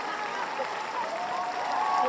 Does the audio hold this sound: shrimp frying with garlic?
no